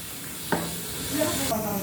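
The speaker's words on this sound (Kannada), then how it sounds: "ಚೆನ್ನಾಗಿ ಕುದೀಲಿ ಫ್ರೆಂಡ್ಸ್." Sambar simmering in a pot on the stove, a steady close hiss of steam and bubbling that carries on throughout.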